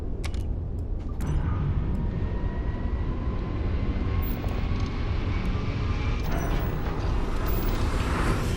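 Spaceship engines in the video game Starfield roar as a steady, loud broadband drone with a low rumble, broken only by a few faint clicks near the start.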